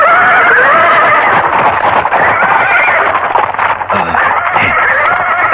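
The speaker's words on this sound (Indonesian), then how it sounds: "Kenapa kuda-kuda jadi ribut?" Several horses neigh and whinny restlessly, loud and close, with shrill overlapping calls and some hoof clatter in a busy, dense soundscape.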